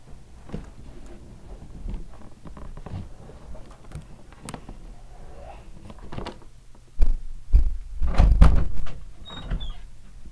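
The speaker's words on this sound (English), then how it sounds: "What are you knocking on my door?" A short burst of several knocks on a door lands near the end, fairly loud and close, after a stretch of softer, scattered background noise.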